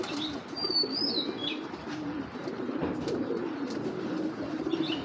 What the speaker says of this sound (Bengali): এগুলো সব পাল্লার করা কবুতর